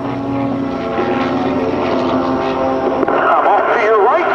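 Red Eagles aerobatic team airplanes rolling overhead at the 2006 AirPower Over Hampton Roads air show, a steady loud engine drone throughout with a public-address announcer talking over it.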